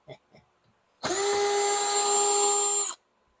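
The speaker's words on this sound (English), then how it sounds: "I was drilling out these rivets" A power drill whines steadily for about two seconds while drilling out rivets on a car door, a Porsche Cayenne, VW Touareg or Audi Q7 window regulator, after a few brief spoken words.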